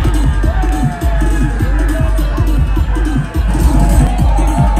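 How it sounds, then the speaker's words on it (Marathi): Spectators at a Holi cricket tournament in Karanja cheer Kasavle Pada's winning team, with loud, dense crowd noise, shouting and babble filling the whole scene. "कासवले पाड्यांचा जल्लोष बघा."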